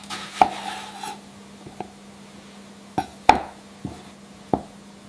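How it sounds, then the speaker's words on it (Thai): Long beans and cherry tomatoes being chopped for som tam: sharp knife strikes on a cutting board, about eight separate, unevenly spaced chops, close and clear over a quiet room hum. "ซอยถั่วฝักยาวเป็นท่อนสั้นๆ ผ่ามะเขือเทศลูกเล็กเป็นซิกซีก"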